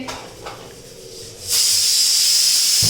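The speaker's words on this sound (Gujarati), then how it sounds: "અને આ બાજુ જો મમ્મીએ દાળ ભાતના કુકર મૂકી દીધા છે" A pressure cooker holding dal and rice, heard after a quieter stretch, suddenly releases a loud, steady hiss of steam that holds for the rest of the moment.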